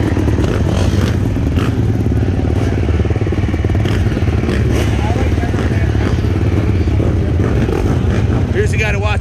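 A 2022 GasGas 450 MC motocross bike races at a pro-class event, its engine roaring loudly and continuously at high revs with a rough, buzzing rasp and faint clatter throughout.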